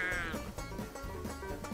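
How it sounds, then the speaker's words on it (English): Sheep bleat repeatedly in a video game while a sheepdog chases the flock, the cries near and layered over steady game sounds. "Go chase those sheep. Chase them around."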